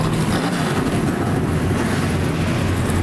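NASCAR Camping World Truck Series trucks fire up and idle before the 2015 Ford EcoBoost 200, a dense, loud, continuous engine rumble with no break.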